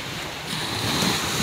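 Large ocean waves washing against a boat at sea, a steady loud rush of surf and water with wind noise that swells slightly midway and holds to the end, with no voices.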